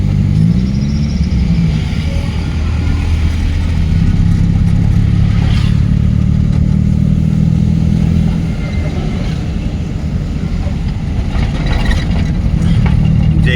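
A car engine hums and revs during a driving lesson, a steady mid-pitched drone rising as the car accelerates, close and continuous throughout.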